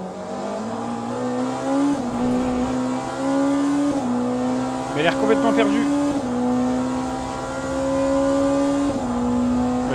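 A Porsche race car engine in the Le Mans Ultimate racing game drones steadily at high revs with small shifts in pitch, loud and continuous, while someone speaks French over it.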